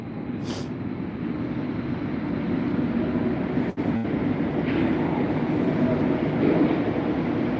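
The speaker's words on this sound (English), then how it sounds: "So let's get a look here at this train switching tracks." An Orange Line metro train rumbles steadily past at close range, with a single sharp metallic clack partway through as the wheels cross a switch.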